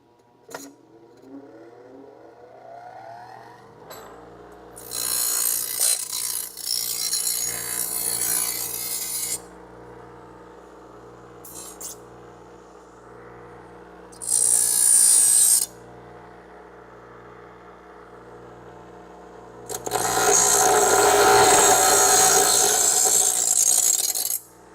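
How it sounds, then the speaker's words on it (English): Bench grinder removing a metal burr from the edge of a steel frame rail end, with several loud harsh grinding bursts of a few seconds each over the motor's steady hum, close by in a workshop. "I'm going to get that off with my, just get it off with a bench grinder real quick."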